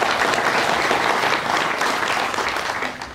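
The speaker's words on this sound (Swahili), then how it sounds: "Simjipigie makofi." An audience claps loudly and continuously at a ward ceremony for student cheque presentations, a dense close burst of applause that tapers slightly toward the end.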